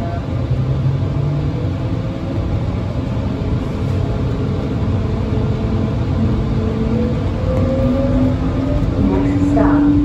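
An airport people-mover train bound for Terminal 3 at Phoenix Sky Harbor, a steady interior hum and rumble with rising and falling motor whine, and a voice speaking over it.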